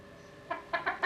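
Hens cluck in a few short, close bursts after a quiet stretch, with the clucks growing quicker toward the end.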